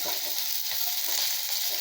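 Green chilies, dried red chilies and curry leaves fry in hot oil for mango rice, giving a steady, soft, hissing sizzle with no voices.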